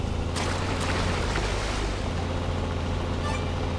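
An off-road vehicle drives through a water crossing in the Offroad Mechanic Simulator game. Constant loud rushing water and engine rumble run unbroken throughout, with no speech.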